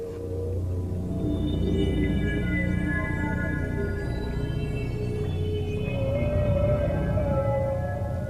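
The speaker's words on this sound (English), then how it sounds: "the calls of their fellow whales" Long, eerie whale calls with sweeping tonal moans and higher squeals overlapping, rising and falling over a deep underwater rumble, with no voices.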